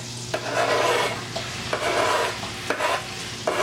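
Red onions sizzle loudly in melted butter in a pan for penne mac and cheese. A spoon stirs them in repeated scraping sweeps over the constant frying hiss, close up, with no voices.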